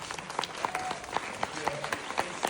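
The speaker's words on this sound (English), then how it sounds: "Let's stand up and give Marcus a big round of applause" Audience applause for Marcus, who is being interviewed as a kids' gardener, with steady scattered clapping across the room under a faint background voice.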